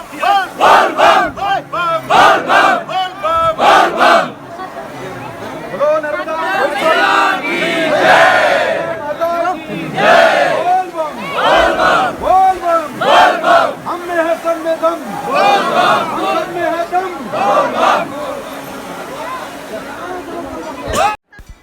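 A large, dense crowd of pilgrims at Amarkantak by the Narmada river, a loud continuous babble of many voices with shouted calls rising and falling throughout, close and enveloping.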